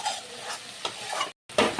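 Spices being stirred in a pan for a vegetarian stuffed pointed gourd dish, with scraping strokes over a soft sizzle, a brief pause, then louder stirring near the end.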